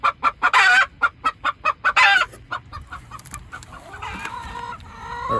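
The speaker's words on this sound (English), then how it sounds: "So this black hen just laid that big old girl." A black hen clucks loudly in a rapid series of sharp pulses right after laying an egg, then the calls fade into softer, scattered farmyard chatter and rustling.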